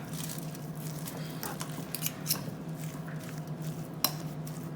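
Shepherd's pie filling is being mixed in a bowl, making soft, quiet squishing and scraping sounds with light utensil clinks and taps against the dish.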